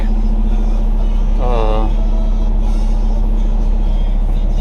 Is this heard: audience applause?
no